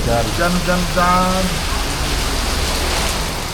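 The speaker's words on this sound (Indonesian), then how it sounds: "cuaca mulai berubah dan hujan menghampiri." Steady rain pours down outdoors at night during a motorcycle touring stop on the road from Bali to Yogyakarta, a loud continuous hiss, with a voice talking briefly over it at the start.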